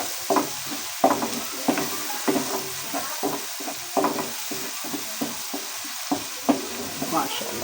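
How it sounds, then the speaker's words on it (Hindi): Onions fry over medium heat in a pan, giving a steady sizzle, with rhythmic scraping and stirring strokes about every half second, close and clear with no talking. "अभी आंच को मीडियम रहने देंगे ताकि अपना प्याज अच्छी तरह से हम भून लें"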